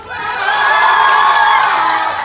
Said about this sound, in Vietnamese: Một tràng vỗ tay thật lớn và lớn nhất trên này cho danh hài Duy Phương.